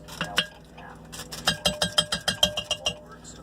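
Food tossed in a pan with metal tongs in a truck cab kitchen, giving a quick rhythmic run of bright clinks and scrapes, near and fairly loud, one after another.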